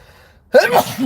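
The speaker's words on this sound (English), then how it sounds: "excuse me, I gotta sneeze" A single loud sneeze bursts out after a brief near-silent pause, sharp and close, trailing off into a breathy tail.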